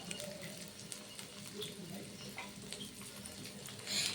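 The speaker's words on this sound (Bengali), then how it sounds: "সেই তেলের মধ্যে দিয়ে দিলাম হাফ চা চামচের মতন গোটা জিরে।" Half a teaspoon of whole cumin seeds sizzling in about a tablespoon of hot oil, a steady soft crackling hiss throughout with small pops, rising slightly at the end.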